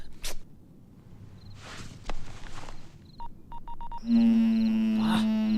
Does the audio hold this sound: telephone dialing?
yes